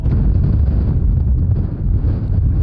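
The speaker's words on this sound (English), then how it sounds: "This is windy as hell." Strong gusty wind buffets the microphone beside a moored narrowboat in loud, continuous low roaring blasts.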